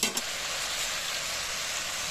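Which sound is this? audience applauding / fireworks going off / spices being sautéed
spices being sautéed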